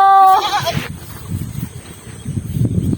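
A goat bleats loudly at close range in a short wavering call, then the sound drops to quiet low rustling and handling noise.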